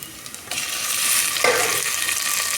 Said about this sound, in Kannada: ಟೊಮೊಟೊ ಚೆನ್ನಾಗಿ ಫ್ರೈ ಮಾಡೋಣ.